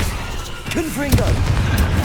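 A Confringo spell blast in Hogwarts Legacy lands as a loud, booming burst over dense combat noise, while a spoken incantation rises briefly around the hit.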